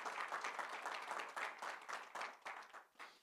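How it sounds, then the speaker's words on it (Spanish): Congregation applauding during a Sunday church service, a steady wash of many hands clapping at moderate level that thins and fades toward the end. "Dale un aplauso al Señor."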